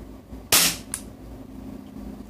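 A Tokyo Marui Glock 17 airsoft pistol running on green gas fires a single sharp, loud, close shot with a quick gassy hiss, followed by a faint click, against a quiet room hum.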